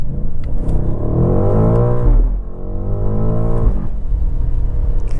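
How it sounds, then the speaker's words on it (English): A 2024 BMW M8 Gran Coupe engine revs loudly and close, rising in pitch twice with a dip between, a deep throaty roar with rich harmonics, heard through the lowered rear window. "that sound track out that engine is just to die for"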